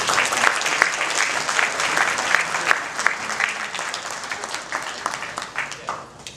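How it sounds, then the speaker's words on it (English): Steady applause from an audience honoring a discussion panel fills the room, sustained and fairly loud, then thinning toward the end. "I want to give them a round of applause"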